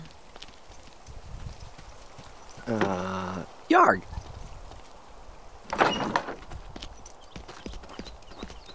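A horse in The Sims 3 gives a short whinny-like call and a few soft hoof-like thuds against a steady background hum, with a brief spoken word in between.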